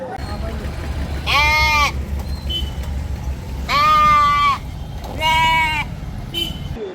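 Sheep bleat at a livestock market in Ranipet: three loud, close, wavering bleats spaced a second or two apart, over a steady low rumble of market crowd noise.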